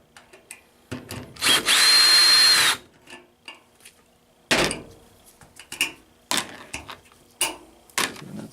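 A cordless power drill loosening screws on the top of a washing machine, with a couple of short whirring bursts amid clicks, knocks and handling noises, close and fairly loud, with no speech.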